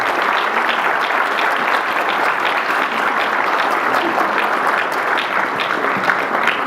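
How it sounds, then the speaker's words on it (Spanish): A conference audience applauds a speaker from Laboratorios Clinic, broad sustained clapping from many hands that holds steady and full for several seconds with no speech over it. "les pido a todos ustedes un gran aplauso para Lourdes Garay"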